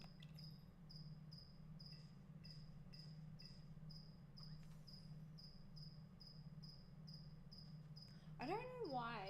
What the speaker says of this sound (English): I don't know why it's one cricket in there. He's having a party.